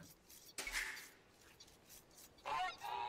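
In the Age of Empires II video game, a goose honks faintly a couple of times amid soft game ambience, the calls brief and distant.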